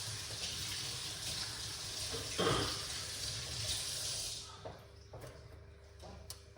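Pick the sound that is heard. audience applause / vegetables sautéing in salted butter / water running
water running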